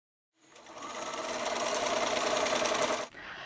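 An embroidery machine with yarn threaded through its foot runs steadily for about three seconds, a close, continuous mechanical whir with rapid stitching rattle that stops abruptly.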